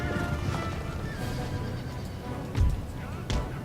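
Cavalry horses including light dragoons charging in the Total War Heir of Carthage video game, with a dense battle din of hooves, clashes and a couple of heavy thuds, and faint neighing mixed into the noise.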